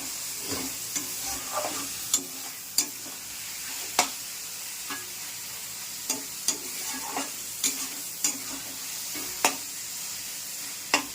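Rice being stirred in a pan while making muri ghonto, the Bengali fish-head rice dish: a steady frying hiss with repeated sharp spoon scrapes and knocks against the pan at irregular intervals, close and clear, with no talking.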